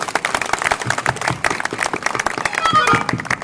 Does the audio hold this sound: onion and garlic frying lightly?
no